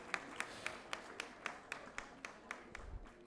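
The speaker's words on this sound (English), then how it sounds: "we should give Mariusz a big round of applause" Hands clap at an awards ceremony for a school sustainability prize, a thin, evenly spaced run of about a dozen claps at a steady rhythm, fairly faint and without voices.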